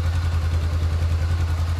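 Honda CBR500R motorcycle on its stock exhaust idling steadily up close, a low, even throb pulsing without a break.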